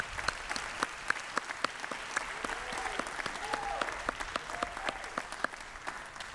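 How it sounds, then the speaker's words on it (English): A graduation ceremony audience gives the management school faculty a sustained round of applause. Steady crowd clapping is punctuated by sharper individual claps, heard from a moderate distance in a large hall. "Please join me in a warm round of applause."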